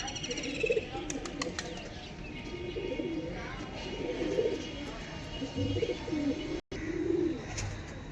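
Hobby pigeons, a mix of males and females, coo repeatedly in low warbling phrases close by, with faint background clatter and a brief drop to silence near the end.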